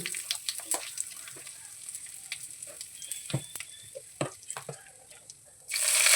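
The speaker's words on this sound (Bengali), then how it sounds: "কড়াইতে তেল দিয়ে দিয়েছি এর মধ্যে দিয়ে দেবো সামান্য কালো জিরে আর একটু হিং" Nigella seeds and asafoetida fry in hot oil in a wok, giving a steady close sizzle broken by sharp crackles and pops, which swell louder in the final moments.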